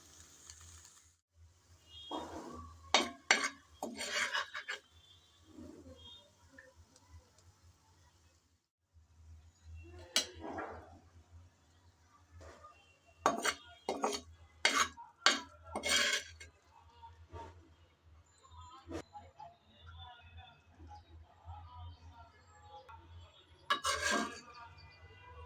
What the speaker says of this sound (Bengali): একটু একটু করে সব টমেটো আমি প্যান থেকে তুলে নিলাম।